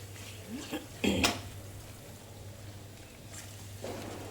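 Semolina roasting in ghee in a pan for Gujarati shiro, with a few clattering scrapes and knocks of a spoon stirring against the pan, close but quiet over a low background hum.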